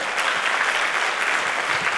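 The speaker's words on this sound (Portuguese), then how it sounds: "Uma salva de palmas." An audience at a comedy hypnosis show applauds, a brief, even burst of many hands clapping, full and steady with no voices over it.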